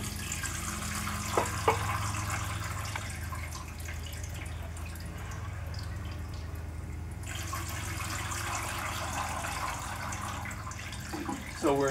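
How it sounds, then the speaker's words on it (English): Red coloured liquid pours steadily into a trough, a continuous trickling, dripping flow that holds at an even level throughout, with brief clinks near the start and end. "So now I'm going to begin pouring the red colored liquid into the trough"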